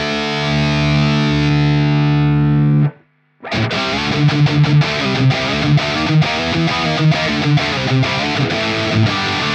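High-gain distorted electric guitar with P90 pickups played through an amp: a loud sustained chord rings out and cuts to a brief silence, then a driving, rhythmic palm-muted riff of repeated chugs follows.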